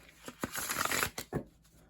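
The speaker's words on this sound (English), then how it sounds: "let's give this a really good shuffle" Tarot cards being shuffled by hand, a short run of crisp riffling bursts and soft flicks, close and fairly quiet, ending in a few separate taps.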